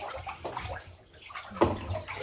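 Water sloshes and splashes softly in a bathtub, quiet and close, with a slightly louder splash near the end.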